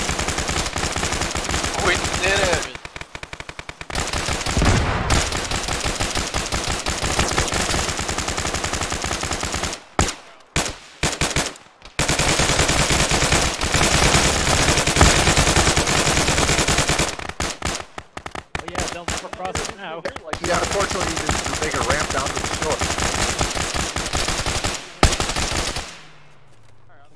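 Video game gunfire in an Arma ShackTac match: sustained, loud automatic bursts and shots filling most of the stretch, broken by brief silent gaps, with faint voices now and then.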